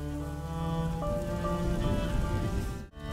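Rain falling in the video game A Plague Tale: Innocence, a continuous close patter of drops over a tonal musical drone, briefly cutting out near the end.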